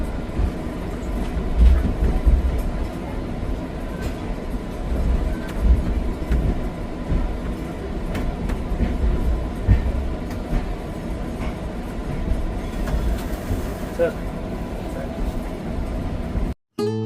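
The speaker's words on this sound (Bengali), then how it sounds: "একদম সঠিক সময় হাওড়া রাজধানী ঢুকছে দেশের রাজধানী নতুন দিল্লিতে" The Howrah Rajdhani Express pulls into New Delhi, a loud, steady rumble of wheels and carriages rolling close by for the whole stretch, with a sharp click at the very end.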